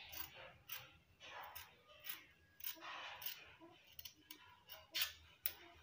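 Scissors snipping through kaftan dress fabric, a series of quiet, crisp cuts in an irregular rhythm, close up and faint, with no talking.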